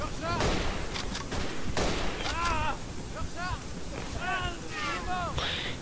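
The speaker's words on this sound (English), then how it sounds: "someone has a machine gun. And the mortars are just absolutely insane" Machine gun fire and mortar blasts in the World War I game Verdun, dense rapid gunfire bursts and booms layered with distant whistling shells, loud and continuous while someone talks over it.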